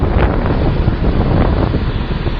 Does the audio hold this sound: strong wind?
yes